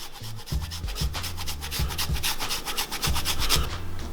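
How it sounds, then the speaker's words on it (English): Fresh ginger rubbed against a grater for a chicken tikka masala, a dry rasping scrape repeated in quick strokes, fairly close and steady. "I'm going to grate a thumb of ginger into there as well."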